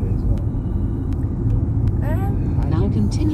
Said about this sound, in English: A lot of this noise and the drive of it might be the wheels.